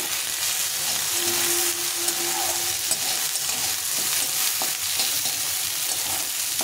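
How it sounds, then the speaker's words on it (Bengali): Potato pieces frying in a pan for upma, a dense, loud, steady sizzle with occasional faint scraping ticks, heard up close and without any voices. "এখন আলুটাকে একটু ভেজে নেব।"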